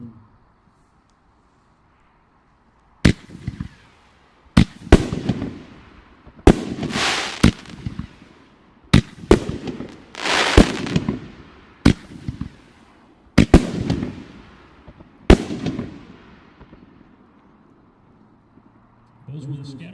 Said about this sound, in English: Scatterbomb 6-inch canister shells. These feature colorful go-getter mines.